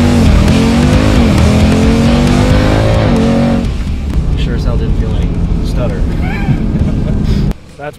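A 1000 hp stage four tuned Jeep Trackhawk drives close by, loud and powerful, its engine note climbing through the gears and then settling into a rougher rumble before cutting off.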